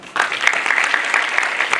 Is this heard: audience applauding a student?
yes